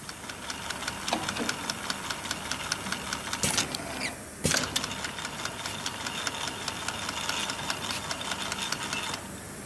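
MZ-400T capping machine tightening a bottle cap, a continuous mechanical whirring and rapid knocking hum with two brief louder bursts partway through, no talk.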